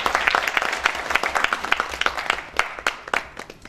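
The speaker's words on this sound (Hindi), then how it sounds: "मैं चाहूंगा कि भरपूर तालियों में हमारे अजीम डायरेक्टर का इस्तकबाल करें।" Enthusiastic clapping from an awards ceremony audience at a hotel, welcoming a film director, with dense overlapping claps and sharp individual hits that thin slightly toward the end.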